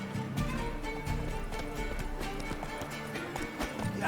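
Hooves clatter in a fast, steady galloping rhythm in The Witcher 3: Wild Hunt, close and continuous, with a busy game background underneath.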